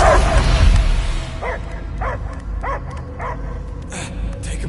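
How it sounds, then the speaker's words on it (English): A dog in the Guardians of the Galaxy video game barks five or six times in an even rhythm, fairly close and clear, following a loud burst of game noise at the start. "I hear only barking"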